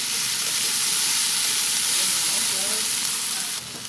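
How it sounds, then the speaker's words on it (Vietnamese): Onions stir-fry in a hot pan for a vegetarian beef noodle dish, a loud, steady hiss of sizzling mixed with scraping and tossing sounds, close and continuous before easing slightly at the end. "Các bạn xào cho đến khi cái cụm hành tây này của mình á nó chuyển sang trong luôn nha các bạn."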